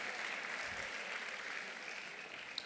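Audience at a political conference plenary session applauding, a sustained wash of clapping heard from a distance at moderate level, steady throughout.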